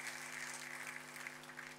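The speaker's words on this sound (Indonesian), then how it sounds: "Tepuk tangannya boleh paling meriah buat Tuhan kita." A church congregation applauding, a dense and even wash of clapping held steady for a couple of seconds without any voices over it.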